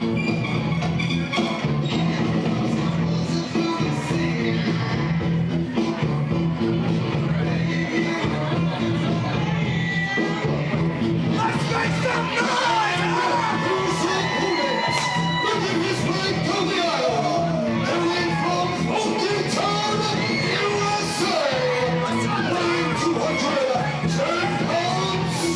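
Crowd at an independent wrestling show as Funky White Boy makes his entrance, a dense continuous roar of voices and music, with a commentator talking over it.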